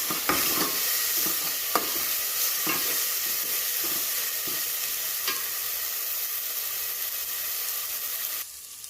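Sautéing in oil for tomato rasam in a pan: a steady, close sizzle runs throughout, with scattered stirring scrapes and clicks. It cuts off abruptly near the end, and no one speaks.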